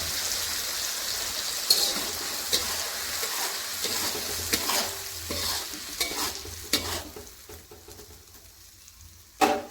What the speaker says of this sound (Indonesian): Lalu masukkan bumbu yang sudah di blender tadi